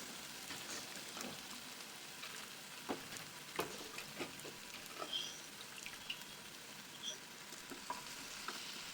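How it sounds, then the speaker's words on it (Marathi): Sliced potatoes and spices frying in hot oil for a Vidarbha-style khichdi, a faint steady sizzle with occasional soft crackles and stirring clicks, no voices. "बटाटे असेच तेलावर परतून घ्या"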